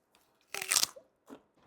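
Two crisp crunchy bites into raw celery, a loud snap then a smaller crunch after a pause, close up with quiet chewing between.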